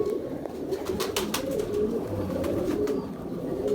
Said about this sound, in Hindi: ये जो मेरा हिटलर कबूतर है